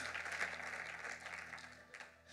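A church congregation applauds and cheers in praise of God during a French-language sermon on fasting and prayer, steady broadband clapping and crowd noise throughout, moderately loud and fairly distant in the hall.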